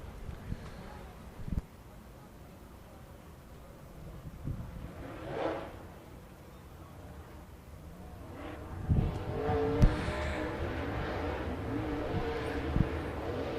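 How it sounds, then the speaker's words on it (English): Race cars in heat race number one at Cherokee Speedway during the Freddy Smith Memorial, engines droning moderately from a distance and rising as cars pass down the front straightaway, with a commentator talking throughout. "You'll see the cars here in heat race number 1. They making their way down the front straightaway here"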